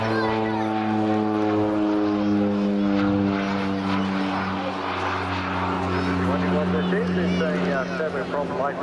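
A Rockwell OV-10B Bronco twin-turboprop light attack aircraft passes at an air show, its propeller drone strong and steady with layered harmonic tones, while a commentator talks over the loudspeakers throughout.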